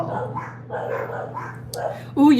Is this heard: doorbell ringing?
no